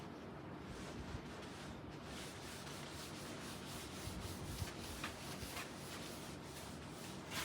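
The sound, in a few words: rubbing writing off a board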